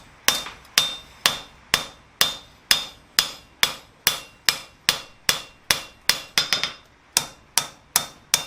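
A blacksmith strikes hot steel on an anvil while forging a flower-shaped coat hook, about fifteen ringing hammer blows in a steady rhythm with a quick flurry of lighter taps near the end, close and loud.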